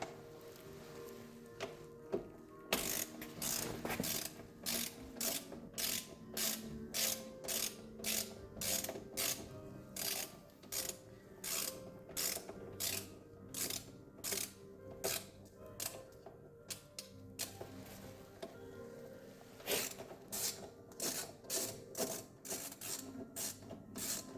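A hand ratchet tightens a nut on a Yamaha XJ 600 motorcycle in quick bursts of rapid clicking, repeated many times with short pauses between strokes, close and clear, with no talk.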